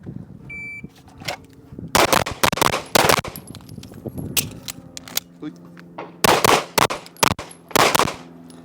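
A PMM Flushcomp SIG P320 pistol fires loud, close shots during a shooting drill, in quick strings separated by short pauses, with a few single shots in between.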